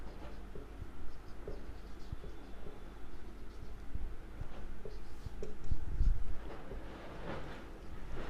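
Pen writing a by-realisation entry into a cash and bank account by hand, a soft, close scratching that runs steadily with brief pauses, alone and fairly quiet.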